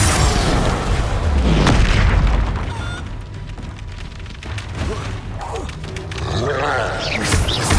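Loud Confringo spell explosions boom in Hogwarts Legacy, with deep rumbling blasts and bursts mixed into busy combat noise.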